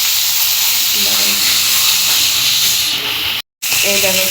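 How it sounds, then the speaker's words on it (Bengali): A fish head frying in hot oil gives off a loud, steady, close hiss and sizzle that fills the whole stretch, broken by one short silent gap near the end. "এই দেখো সবার ফার্স্টে মাছের মাথাটা ভেজে নিচ্ছি"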